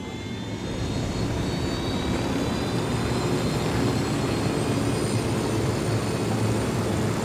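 Supply helicopter in the video game Ghost Recon Wildlands, a loud, steady engine and rotor roar that fills the whole stretch without letup and with no voices.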